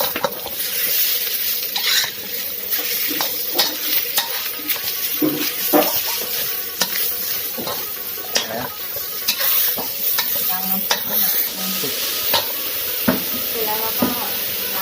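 Beef stir-fries in a pan for pad kaprao. A loud, continuous sizzle is broken by frequent scraping and clattering of a spatula against the pan. There is no talk.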